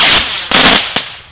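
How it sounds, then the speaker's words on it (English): Fireworks crack sharply in three loud bursts, a long broad blast followed by two shorter pops close together, each with a bright, hissing edge. "fireworks,"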